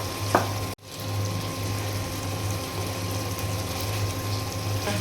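Hilsa fish frying in hot oil in a pan, a steady close sizzle with a brief spatter burst at the start as the pieces go in, continuing evenly throughout.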